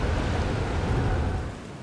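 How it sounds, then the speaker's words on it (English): Steady rain on a planet in the video game Outer Wilds, a dense, even wash of noise that holds loud and then eases slightly toward the end, with no talk. "There is at least rain."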